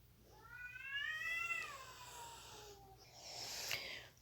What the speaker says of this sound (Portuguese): veio um gato namorar bem aqui perto da minha janela